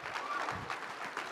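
An audience at a tech conference breaks into a short, dense burst of applause, with steady clapping filling the moment.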